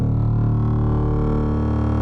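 A dark, droning synth acro bass built from a wavetable, with detuned voices and a slow LFO modulation, holds one sustained, rich, buzzing tone that gently shifts and darkens over its length, heard alone without talk.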